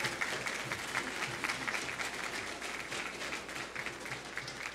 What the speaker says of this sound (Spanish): Fuerte el aplauso para la licenciada Tuñón